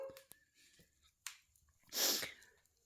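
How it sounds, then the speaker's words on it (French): A woman sneezes once, a sharp, breathy burst near the end, after a few soft sniffs and small mouth sounds in an otherwise quiet room. "je crois que je vais éternuer"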